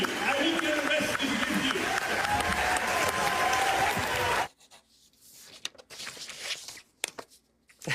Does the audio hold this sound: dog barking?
no